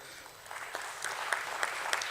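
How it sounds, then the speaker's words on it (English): Applause from an audience at the Jio Financial Services listing ceremony at BSE, a soft, steady patter of clapping with a few sharper claps standing out, moderately distant and fairly quiet. "We can have a round of applause."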